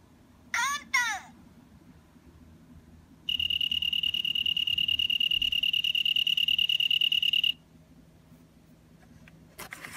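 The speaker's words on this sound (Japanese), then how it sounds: "いろんな虫の鳴き声を聞いてみよう。" Autumn insect chirping: a bright, continuous high trill lasts about four seconds in the middle, with brief chirps early on and a faint background murmur of a voice.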